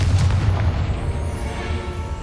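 A Confringo explosive spell in Hogwarts Legacy lands as a loud, sustained low boom with rumbling debris that stays dense and steady through its brief length, with no voices.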